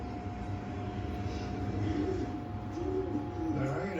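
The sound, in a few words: young pigeons called in to their feeders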